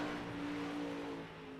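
A 360 sprint car racing on the track at Knoxville, its engine giving a steady, droning roar at mid distance that eases off slightly near the end.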